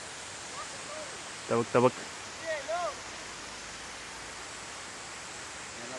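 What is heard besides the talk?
hidden waterfall, flowing water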